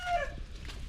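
Backyard chickens give a short, close cluck that fades within a second against low outdoor background noise.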